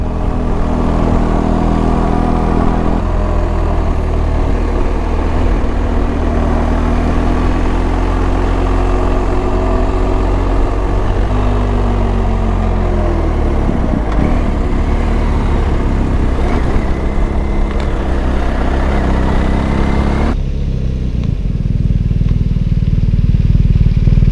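A motorcycle engine running steadily while riding, a loud continuous drone that rises and falls with throttle changes and wind noise, then shifts lower near the end as it slows.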